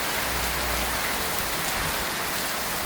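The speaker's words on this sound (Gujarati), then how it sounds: "પવનની સાથે વરસાદ ફૂલ એકદમ ધોધમાર વરસાદ આવવા લાગી ગયો" A heavy downpour driven by wind lashes a village farmyard, a dense, continuous roar of rain hitting surfaces with no pauses and no talking.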